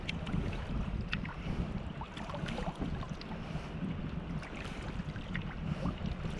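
Bjorn Thomason-designed Frey kayak moving on open water, with wind buffeting the microphone, water swishing and splashing against the hull, and light paddle strokes throughout, no voices.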